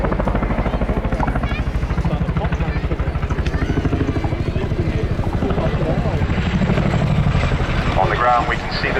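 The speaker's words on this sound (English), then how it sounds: "Get ready to hit the Chinook's iconic blade slap." Chinook twin-rotor helicopter at the RAF Cosford airshow, its rapid, rhythmic blade slap thudding loudly and continuously, with a heavy throbbing beat and engine whine close by.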